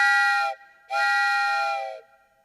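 Train whistle, two sustained chord-like blasts, the first short and the second longer, loud and clear with a brief silent gap between them and no talk.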